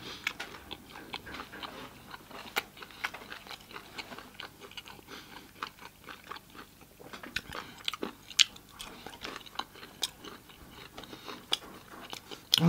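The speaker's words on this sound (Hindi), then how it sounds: "यो चाहिँ सेकुवाबाट स्टार्ट गरौँ" Crispy black pork sekuwa being eaten up close, with repeated crunchy bites and steady wet chewing in an irregular rhythm, fairly quiet with no talking.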